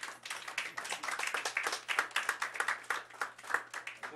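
Hand clapping from a crowd at a Brooklyn press conference for a Zin vs Phantoms event, a dense steady patter of claps running throughout at moderate distance, with no talk over it.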